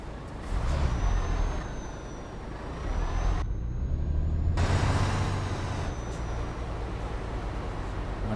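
A MAN truck in Euro Truck Simulator 2 pulls away: a loud, steady diesel rumble with a sharp air-brake hiss, a short break in the sound, then the engine drones on continuously.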